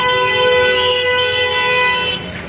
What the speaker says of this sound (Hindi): मैं हमेशा जब भी व्लॉग बनाऊँ ना तो हॉर्न बजाना जरूरी है